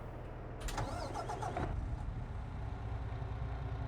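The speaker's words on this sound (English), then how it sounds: "There is our 49-mile-an-hour truck." Truck engine in the Farming Simulator 22 game cranking over with a short whirring starter burst, then settling into a steady low idle rumble, loud and alone.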